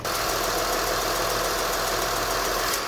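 A Honda Legend luxury sedan's V-Tec engine idles close by, a loud, steady mechanical hum with a fine rhythmic ticking pulse that holds evenly throughout, no voices.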